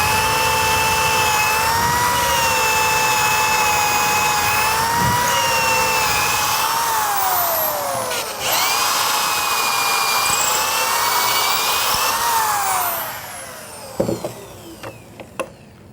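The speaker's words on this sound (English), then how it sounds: "Clamp that into the jig, and then drill a couple of holes." A power drill bores holes in wood stock clamped in a woodworking jig, a loud, steady whine that rises and falls in pitch for about thirteen seconds before cutting off, followed by a few sharp knocks.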